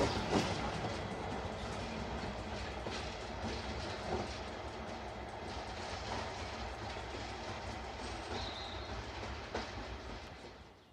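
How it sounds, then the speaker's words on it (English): A passenger train rolls through a heritage railway station with class 59 diesel locomotive 59001 at the rear, giving a steady rumble and faint wheel clatter throughout, with a few brief squeaks late in the pass. "Here we can see heavy haul rails 59001 bringing up the rear on the service towards Kidderminster"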